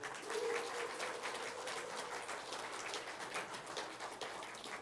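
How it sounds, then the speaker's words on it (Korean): Church congregation clapping together, a steady broadband patter of many hands that holds at even loudness throughout, fairly close, with no clear talking over it. "모두 기립에서 박수를 해야 돼요"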